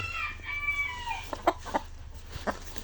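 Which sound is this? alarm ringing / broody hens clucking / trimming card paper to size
broody hens clucking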